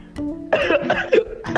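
Several rough, close coughs from a man come in quick succession, harsh and loud, with a strained throaty edge between bursts.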